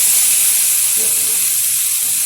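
Loud, steady sizzle and hiss as chopped water lily stems go into a pan of frying masoor lentil dal, the sizzle shifting briefly in tone partway through.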